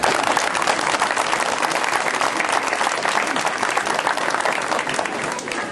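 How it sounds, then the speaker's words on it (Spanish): Loud, sustained crowd applause at a municipal anniversary ceremony in Huitzuco honoring an elected town president, a dense close roar of clapping that holds steady the whole time. "Por favor, un aplauso para él."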